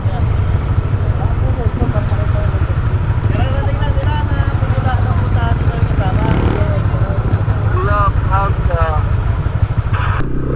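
Six motorcycles riding together on a provincial road in Anda, Pangasinan, their engines droning loud and steady throughout, with faint voices and other traffic in the mix.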